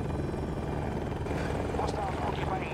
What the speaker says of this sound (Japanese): 上昇だけしてる謎のヘリがいる。